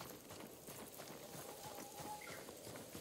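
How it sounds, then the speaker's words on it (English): Horse hooves clip-clopping at a steady trot in the video game Ghost of Tsushima, amid a busy, layered ambience, moderately distant and continuous throughout. "You hear that? Horses!"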